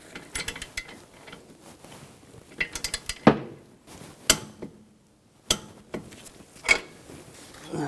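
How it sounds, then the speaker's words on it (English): Torque wrench tightening a bolt on a 2004-2009 Audi A4 Quattro front upper control arm, sparse close metallic clicks and clinks of the ratchet and tool against metal, separated by quiet gaps. "we're going to torque this bolt to 30 foot-pounds"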